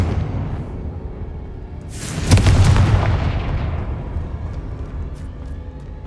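A Confringo blasting spell explodes in Hogwarts Legacy, a loud booming burst that swells suddenly and rolls into a long fading rumble over steady background game ambience.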